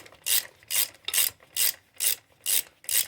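A ratchet wrench tightening a ball joint on a Polaris Sportsman 500 ATV, seven loud, even rasping clicking strokes in a steady rhythm, close up with no talk.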